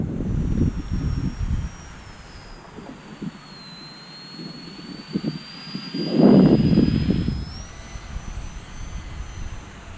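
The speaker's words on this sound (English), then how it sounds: "This brushless micro is really fast. If I can get a closer pass here." XK Edge A430 brushless micro RC plane making a fast pass: a thin high electric motor whine runs throughout, then swells into a louder, closer rush near the middle before easing off again.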